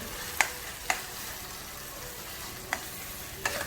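Eggplant bharta going into hot oil and being stirred, a soft constant sizzle broken by four sharp clacks of a spoon against the pan, heard close with no voices.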